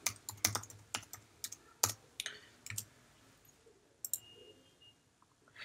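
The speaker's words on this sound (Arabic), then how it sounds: "نقوم بكتابة كلمة المرور" Password being typed on a computer keyboard while signing in to a university account: irregular bursts of crisp key clicks, several quick runs and single taps with pauses, close and alone.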